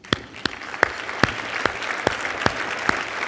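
Audience at a fundraising gala applauding, though the sound is sparse and rhythmic, with about a dozen evenly spaced sharp claps over a low crowd murmur.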